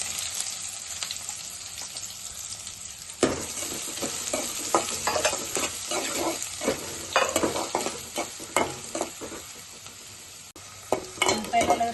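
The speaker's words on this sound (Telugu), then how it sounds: "ఉల్లిపాయ ముక్కలు వేసుకుందాం." Chopped onions, with bay leaf and green chillies, sizzle and fry in a pan for batani chaat, a steady hiss rising as they drop in, with frequent spatula scrapes and light clinks.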